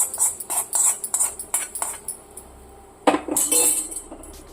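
A spoon scrapes and clinks against a pot while pongal made with foxtail millet, sprouted moong and rice is stirred, giving repeated close metallic taps in quick bursts with a louder cluster near the end.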